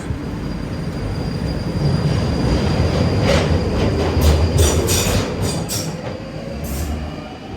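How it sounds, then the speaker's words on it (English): A London Underground train departs, rumbling steadily along rails, with bright metallic squeals and clicks rising through the middle of the passage, no voices present. "The train is now ready to depart."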